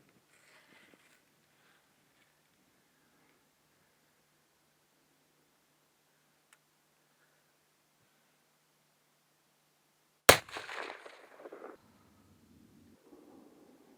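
A single sharp rifle gunshot cracks out loud and close during a mule deer and bighorn sheep hunt in Alberta, breaking near-silence and followed by a brief rustling tail and faint movement.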